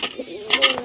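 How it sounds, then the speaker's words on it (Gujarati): White pigeons give a brief, soft coo close by in a pigeon-keeping setting, a short murmuring call set against faint background noise. "અહીં છે સફેદ કબૂતર"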